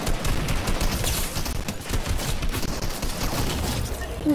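Rapid gunfire in the video game Fortnite crackles in dense continuous bursts throughout, loud and close, with a voice faintly under the shooting.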